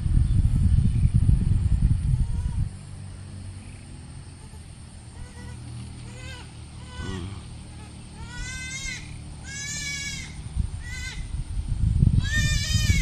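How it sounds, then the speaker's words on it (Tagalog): Several goats bleat in repeated wavering cries on a farm with coconut trees, some near and some farther off, over a steady low rumble of wind or handling noise that swells at the start and end. "Oh, nag-iyak ng kambing."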